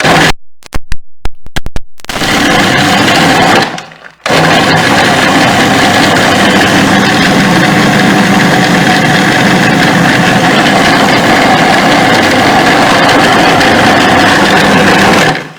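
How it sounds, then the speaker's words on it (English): A blender whirs through a mango cheesecake mixture, a few short pulses followed by a loud, sustained steady motor drone running close and uninterrupted. "so just going to blend it"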